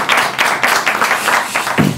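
A short burst of studio audience applause, brisk dense clapping at steady loudness for about two seconds, opening a segment of a Spanish comedy show.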